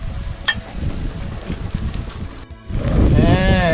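Strong wind buffets an outdoor garden cooking spot, loud rumbling gusts hitting the microphone. A brief lull is followed by a heavier blast, and a voice is faintly heard near the end.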